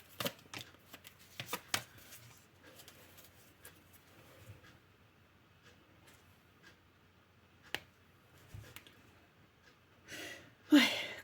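Tarot cards being shuffled and riffled in short crisp bursts, scattered taps and flicks, louder flurry near the end, close and otherwise quiet.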